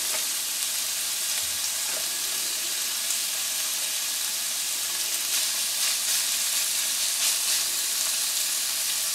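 Half a portion of beef mince for spaghetti Bolognese sizzling and frying in a pan, a steady close crackling hiss that carries on unbroken, with no voices.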